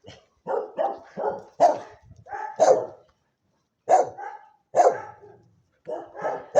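Dogs at an animal shelter bark close by in short, sharp bursts, some yips mixed in, with brief pauses between rapid runs of barking.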